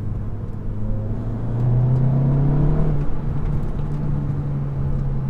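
A SEAT Leon Cupra engine idles with a deep hum, then revs up for a couple of seconds before settling back to a steady, slightly rough idle.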